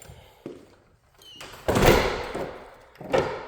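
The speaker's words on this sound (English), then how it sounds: "So we're coming in from the back door." A house's back door is opened and shut, producing a few separate thumps and knocks with quiet gaps between them, the loudest near the middle and another near the end.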